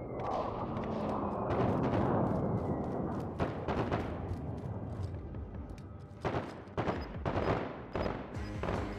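Dense gunfire and heavy explosive thumps from a tactical airstrike in Call of Duty: Warzone, a sustained barrage of booms with scattered sharp shots rattling through the whole stretch.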